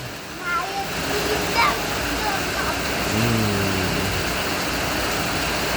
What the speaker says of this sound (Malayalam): ഇതുപോലത്തെ മഴ കണ്ടിട്ടുണ്ടാ